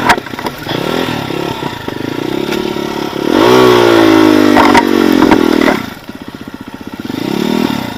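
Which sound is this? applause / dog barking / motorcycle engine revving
motorcycle engine revving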